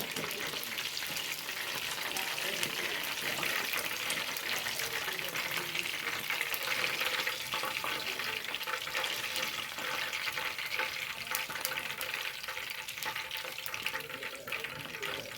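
Chicken lollipops frying in oil in a pan at home, a steady, even sizzle and crackle that holds for the whole stretch at moderate level, with no talk.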